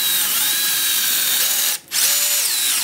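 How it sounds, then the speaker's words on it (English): A power drill whines as it bores through a scooter deck, a loud close steady motor tone with a brief pause before it spins up again. "if you're drilling and it's a bit lower or higher"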